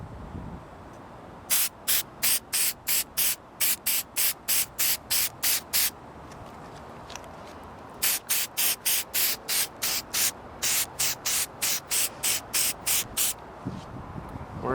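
A sealing coat is sprayed onto a car headlight in quick, even bursts of aerosol hiss, two long runs of rapid short sprays separated by a pause, close and clear.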